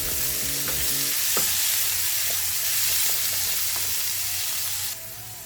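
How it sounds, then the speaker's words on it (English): Garlic sautéing in a hot pan for pork sisig gives a close, steady sizzle with scraping stir strokes throughout, easing to a softer fry near the end. "Some garlic. Mix, mix, mix, saute."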